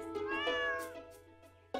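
In a farming video game, a cat lets out one drawn-out, clear meow up close, followed by a brief quiet gap and the start of another sound at the end.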